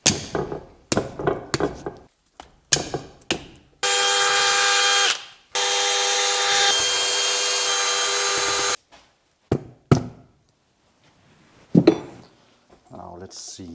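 A power tool removing the cover bolts on a BMW E36 188mm limited-slip differential, two long loud whirring bursts set among sharp clanks and knocks of metal parts.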